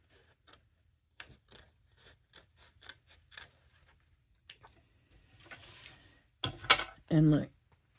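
Scissors snip paper for a handmade gatefold card, a series of quick separate cuts followed by rustling paper handling and a louder scrape near the end, with no talk.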